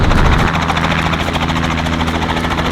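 A helicopter heard from close by during a sightseeing flight around Darwin in Australia's Top End, a loud, steady rotor thrum with a continuous turbine whine and no talk over it.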